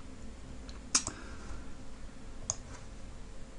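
Two sharp mouse clicks, one near the start and another about a second and a half later, sound against a quiet room while a password is entered and submitted during a WordPress installation.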